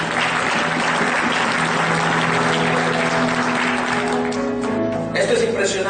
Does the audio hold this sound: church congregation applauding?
yes